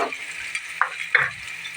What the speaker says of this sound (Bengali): আমার তেলটা গরম হয়ে গেছে, আমি দিয়ে দেবো পেঁয়াজ কুচি